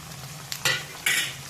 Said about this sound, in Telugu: చికెన్ 1/2 కేజీ, పచ్చివాసన పోయేదాకా వేపుకుందాం అల్లిమిరగడ్డ